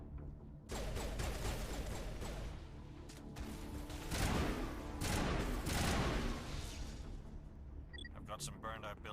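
Gunfire in Mass Effect, with rapid overlapping shots and bursts over a rumbling battle din and occasional louder blasts, mixed with faint voices and game sounds.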